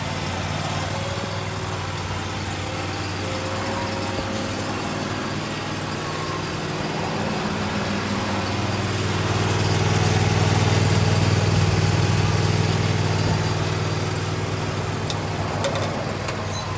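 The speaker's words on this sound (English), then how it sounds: "So I think a stand on mower will probably be a better choice." A stand-on lawn mower engine runs steadily, a loud, continuous drone that swells a little midway through, with no voices.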